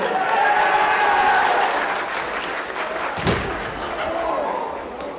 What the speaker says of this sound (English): One more round of applause for Hamilton Southeastern High School.